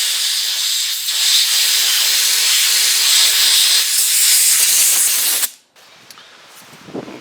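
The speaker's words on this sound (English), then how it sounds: "I'm going to take a air hose here. Compressed air." A compressed air hose blasts loud, steady hissing over the burner holes of a Norcold RV refrigerator for about five seconds, then cuts off abruptly, leaving faint handling noises.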